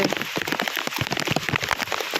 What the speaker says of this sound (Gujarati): તો વરસાદ એટલો બધો છે